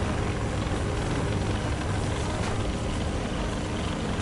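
A loud, steady F-15 fighter jet engine roar in the video game Trailmakers fills the whole stretch, a dense continuous rumble and hiss with no voices.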